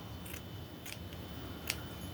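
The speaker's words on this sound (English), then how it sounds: "These are actually paper scissors, so that's why they're kind of fighting with the fabric a bit." Paper scissors snip through fabric scraps for crumb quilting: three crisp, separate cuts, close and quiet, against a faint background hiss.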